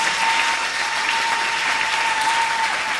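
A church congregation applauds during a worship celebration, a dense, steady wash of clapping that fills the whole stretch without pause or lull.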